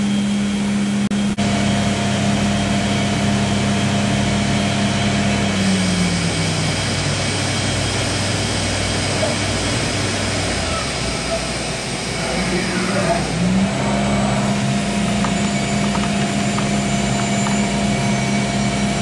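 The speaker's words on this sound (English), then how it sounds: "Grinding the finish grind, and the RPM speed's way up to give a finer honed finish." A grinding machine running at high RPM finish-grinds a spiral downcut router bit, giving a loud, steady whine with a sustained tonal hum that dips briefly midway before returning, continuous and close throughout.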